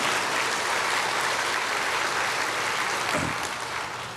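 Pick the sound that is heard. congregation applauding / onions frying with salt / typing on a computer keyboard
congregation applauding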